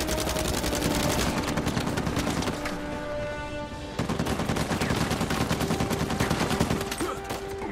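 Rapid automatic gunfire in Uncharted 4 rattles on almost continuously, dense repeated shots with a brief lull midway before firing resumes, loud and close.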